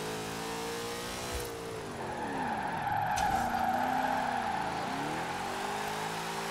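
A drift van in Forza Horizon 4 slides with sustained tire skidding and a droning engine, pitch dipping and rising as it swings through the drift, loud and continuous with no talk.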